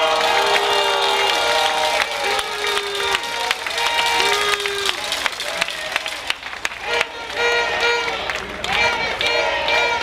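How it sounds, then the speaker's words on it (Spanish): A crowd at an outdoor political rally in Jalcomulco, Veracruz, claps and cheers for teachers; the applause is scattered and bursty, mixed with loud amplified voices and music-like tones. "Un aplauso a los maestros de Veracruz."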